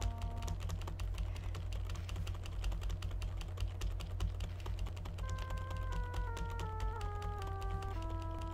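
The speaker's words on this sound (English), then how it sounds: "So please pardon my keyboard noise." Steady, rapid typing on a computer keyboard, close and continuous, with soft background music underneath.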